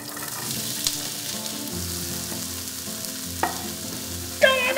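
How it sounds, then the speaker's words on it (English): Onions frying in a pan for beef stroganoff give a steady close sizzle with a light crackle, plus a few clinks of a utensil near the end. "Put your onions in here."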